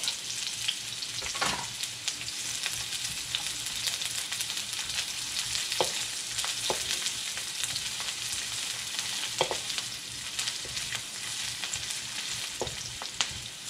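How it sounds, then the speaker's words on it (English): Onion and garlic sautéing in melted coconut oil for seafood pancit canton, a loud continuous sizzle with occasional clicks and scrapes of stirring. "Saute the onion until it's transparent."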